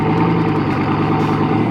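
A Bugatti car engine idles in a steady, loud, close rumble with a deep even throb and no other sounds over it.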